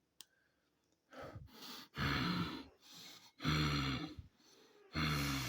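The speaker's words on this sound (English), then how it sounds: "obese boyfriend breathing in your ear." Heavy, exaggerated breathing close to the microphone, a series of loud sighing exhales and gasping inhales in an uneven rhythm with short silences between breaths.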